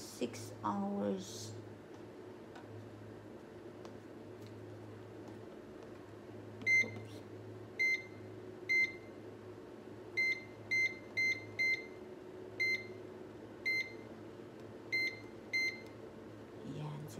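A kitchen appliance's timer being set for food processing gives a series of about a dozen short, sharp electronic beeps, some in quick pairs, over a low steady hum after a brief opening clatter.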